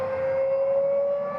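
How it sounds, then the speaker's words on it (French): An inventor's homemade car engine revs up on the track, giving a steady, loud, airplane-like drone with a strong sustained tone that holds level throughout. "La voiture fait le bruit d'un avion sur la piste, avant le décollage."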